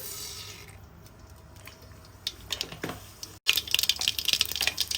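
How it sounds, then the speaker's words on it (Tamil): Mustard seeds crackle and pop in hot groundnut oil in a kadai. A light patter runs at first, then grows into a dense, close burst of sharp spluttering in the final seconds. No one speaks. "கடுகு பொட்டியாக்கி"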